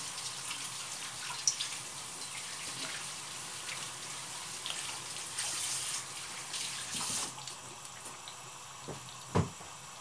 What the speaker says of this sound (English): Let me wash my hands to show you.